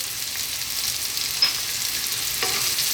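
Onions frying in a pan for a garlic bacon tomato pasta give a steady, close hiss and sizzle, with a faint stir or two and a brief clink.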